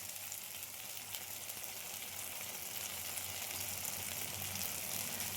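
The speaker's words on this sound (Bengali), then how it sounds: "একটু দেখো কষিয়ে এসছে আমার মশলাটা" Masala for dhokar dalna fries in a pan with a steady, even sizzle and no breaks. The hiss is close and moderately loud, with faint low bubbling beneath it.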